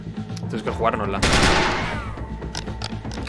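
Bursts of gunfire from the video game SteamWorld Heist, a loud rapid volley of shots in the middle with scattered lighter pops around it, set among game sounds.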